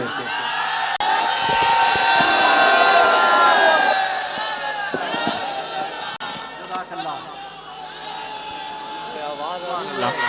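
A large crowd at a Nauha Khuwani religious gathering chants the Nara-e-Takbir slogan together, a loud sustained mass of voices swelling early and then fading into murmuring and scattered calls.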